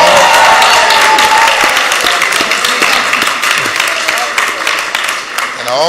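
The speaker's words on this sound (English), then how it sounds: "Let's give her a round of applause." Loud applause from a crowd at an anniversary celebration for a sorority, dense clapping close by that slowly thins out, with voices mixed in.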